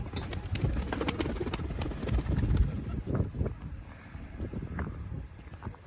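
Pigeons in a coop give soft, irregular cooing and faint calls, mixed with fluttering, shuffling and scratching. The sound is continuous and moderately close, with no talk.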